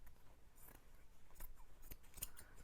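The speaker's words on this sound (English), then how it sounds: "And then I'm gonna cut the seam to separate the front from the rest of it." Scissors snip through the seam of a men's shirt, a few quiet, close crisp cuts spaced irregularly.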